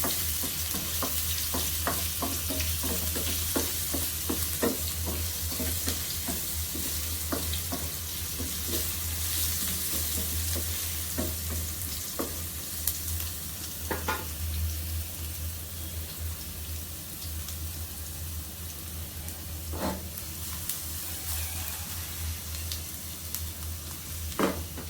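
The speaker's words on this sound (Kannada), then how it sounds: "ಸೊ ಫಸ್ಟ್ಗೆ ಸ್ವಲ್ಪ ಆಯಿಲ್ ಹಾಕ್ಕೊಂಡು ಒಗ್ಗರಣೆ ಹಾಕ್ಕೊತಿದ್ದೀನಿ." Crushed garlic fries in hot oil for a home-cooked tempering, giving a steady loud sizzle with frequent crackles and spatters, plus occasional stirring scrapes; no voices.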